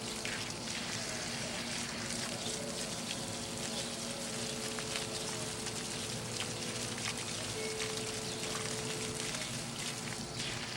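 Tap water sprays steadily over an oiled bird's wings during a rinse, a continuous close hiss and patter with a faint low hum underneath and no talking.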